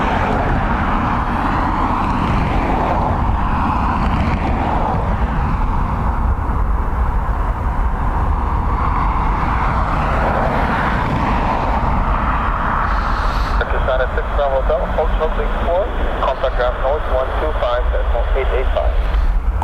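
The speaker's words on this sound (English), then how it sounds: "Next in is an ATR 72-600 EI 3257 from Edinburgh." ATR 72-600 turboprop arriving from Edinburgh at Dublin Airport, a steady distant engine drone and rumble that shifts toward the end, with a person talking over it.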